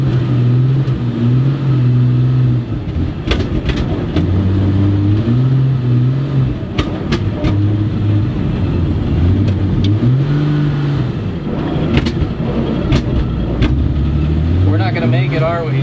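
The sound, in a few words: 1963 Chevy C10 truck engine revving driving uphill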